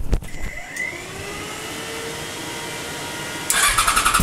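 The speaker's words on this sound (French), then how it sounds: "Donc voilà pour la R6, elle démarre enfin" A Yamaha R6 motorcycle engine cranks and starts, a rough mechanical churn that settles into a steady idle, then rises in a sharp burst of revving at the end, close and loud.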